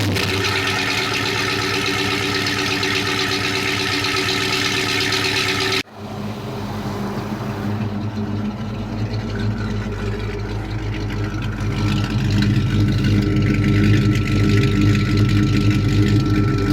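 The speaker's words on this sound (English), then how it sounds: "Get ready for the best sounding 199 horsepower on YouTube. First cold start in about 9 months." An old Ford engine rated at 199 horsepower runs loud and steady on its first cold start in nine months. The idle drops briefly partway through, then settles into a rough, rumbling run that grows slightly louder near the end.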